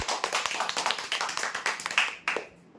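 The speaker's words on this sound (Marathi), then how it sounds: "जोरदार टाळ्या होऊ द्यायसाठी." A small group claps in quick, uneven bursts at a prize draw, a brisk round of applause that tapers off near the end.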